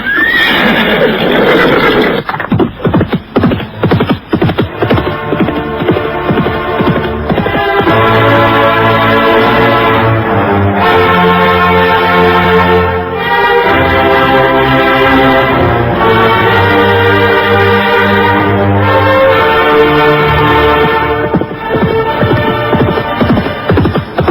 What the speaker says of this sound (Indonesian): ketika Arya Kamandanu berkuda meninggalkan desa Manguntur